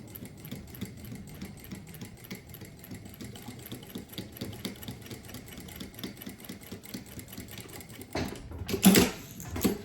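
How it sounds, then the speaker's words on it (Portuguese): A sewing machine runs a topstitch seam, stitch number 4, with backstitching at the start and end, ticking in a fast, steady mechanical rhythm before a louder burst near the end. "Vou passar uma costura de pesponto, ponto número 4, com retrocesso também no início e no final."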